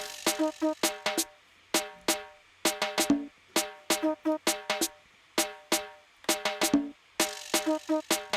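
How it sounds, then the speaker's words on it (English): A vibraslap percussion instrument in a programmed beat, sharp rattling clacks in a repeating syncopated pattern of quick double and triple hits, each ending in a brief buzzing decay, loud and unaccompanied. "the last piece for the percussion is a vibrator"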